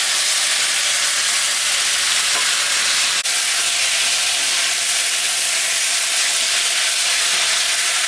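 Spices with ginger, cumin, dried and green chillies, salt and turmeric frying in a pan for a rohu fish curry, giving a steady close broadband sizzle and hiss with a brief sharp click midway.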